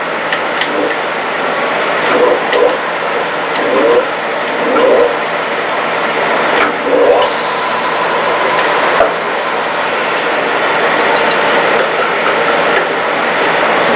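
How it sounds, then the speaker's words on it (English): A heater runs with a constant loud mechanical hum and whoosh, without a break, in a workshop, with faint knocks and shuffles drifting over it. "you can probably hear the noise in the background. That's a heater."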